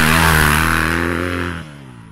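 Engine of a 2022 Yamaha 250 YZF motorcycle with its stock exhaust, a loud, close, steady buzzing drone rich in harmonics that holds, then drops off abruptly near the end.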